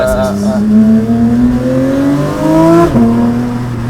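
A Porsche 911 GT3 with a straight-pipe exhaust revs in a strong, rising sweep over about three seconds, then dips briefly and settles back into a loud, steady drone, heard close and filling the whole clip.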